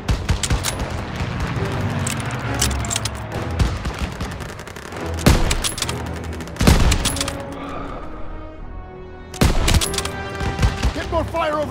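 Heavy gunfire in Call of Duty WWII around a courtyard with a flak gun: dense overlapping rifle and machine-gun bursts with sharp loud cracks, continuing throughout under occasional shouted game voices.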